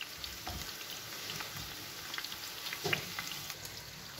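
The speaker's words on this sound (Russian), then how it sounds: "Пока жарятся баклажаны" Eggplant slices frying in oil in a pan, giving a steady close crackling sizzle with occasional louder pops and stirring touches, with no talking.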